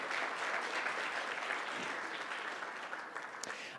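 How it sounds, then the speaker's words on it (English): A conference audience applauds speakers at an AI ethics event, steady broadband clapping from many hands filling the room at an even level, fading slightly toward the end. "please give a huge round of applause for our first set of speakers"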